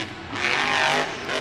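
Monster truck engine roaring at Monster Jam Nashville, a loud sustained rev that rises and holds bright and strong, then eases slightly, heard from a distance across the stadium.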